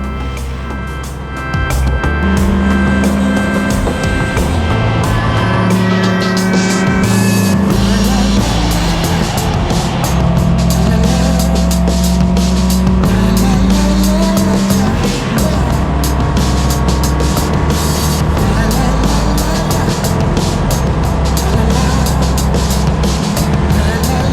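A modified Toyota Yaris laps the Buttonwillow race track, its engine droning loud and steady with rising and falling pitch through gear changes, continuous for most of the stretch without speech.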